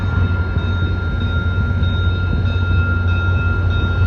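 MP54AC locomotive 673 rolls past on Islington Avenue in Etobicoke's Queensway-Mimico neighbourhood, a loud, close and steady rumble of wheels and cars with sustained ringing tones over it.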